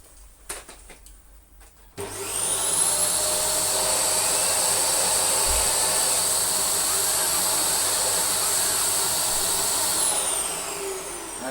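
A rare Swedish Dyson DC46 Allergy Parquet vacuum cleaner switches on with a sudden loud roar and a high whine. It runs steadily for about eight seconds, then winds down slightly at the end.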